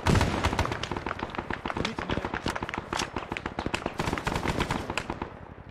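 Heavy gunfire fills a battle in the video game Arma 3, set in Vietnam: rapid bursts and booming cannon shots crowd together in a dense, loud, continuous barrage.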